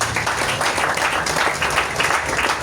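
A church congregation applauds with dense, steady clapping that fills the room. It is loud and sustained throughout, with some cheering voices mixed in.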